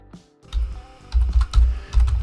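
Keys clatter on a computer keyboard in short irregular bursts of typing, close and clear, with brief pauses between clusters and no voices.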